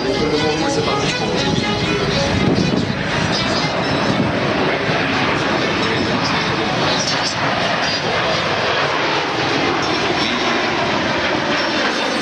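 An aerobatic jet formation takes off at the Le Bourget air show, a loud, sustained roar of jet engines filling the whole stretch while an announcer talks over it.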